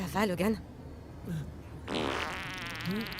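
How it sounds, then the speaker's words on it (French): A fart sounds in a French comedy film, a short low burst between snippets of dialogue as people talk around it. "Tu viens de péter."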